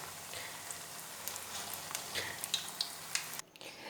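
Chicken malai balls frying in hot oil: a steady, soft sizzle with faint bubbling and occasional small pops, continuing evenly until it cuts off abruptly near the end.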